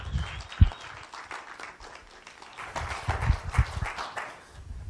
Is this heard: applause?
yes